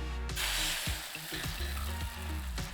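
Eggs hit a hot pan still slick with sausage fat, bursting into a loud, close sizzle that settles into a steady crackling fry, with scattered ticks and scrapes of the pan running through it.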